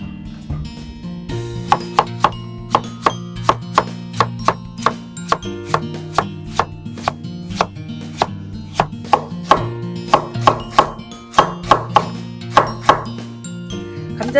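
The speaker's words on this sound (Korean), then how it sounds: "그럼 감자를 일단 채를 좀 썰어 보도록 하겠습니다." Potatoes cut into thin matchsticks with a knife on a wooden board, sharp close knocks coming in quick bursts that speed up into rapid runs, with no talk over them.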